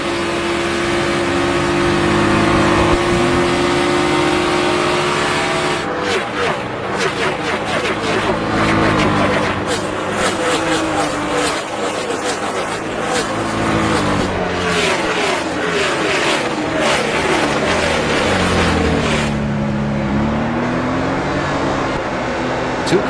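Race cars engines roar continuously in a stock car race inside the Real Racing 3 mobile game, a steady loud drone with rising and falling revs as cars jostle, under ongoing commentary voices.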